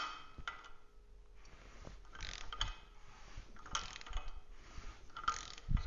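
A torque wrench ratchets in short bursts of clicking while a part is tightened to about 30 foot-pounds during an assembly, the clicks quiet and close with pauses between bursts.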